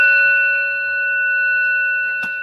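A meditation bell's tone lingering from a guided relaxation session, a steady sustained metallic ring that slowly fades, with a brief soft knock near the end and no voices.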